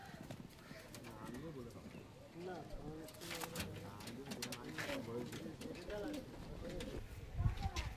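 Pigeons, a pair of crested Naptha birds from a loft, coo in soft repeated phrases throughout, with people talking over them and occasional wingbeat-like clatter near the end.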